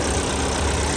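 A 1.5-litre car engine runs steadily under an open hood, a loud, close, even mechanical rumble with no pauses or voices.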